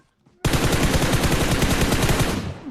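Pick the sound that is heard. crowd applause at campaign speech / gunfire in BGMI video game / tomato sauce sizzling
gunfire in BGMI video game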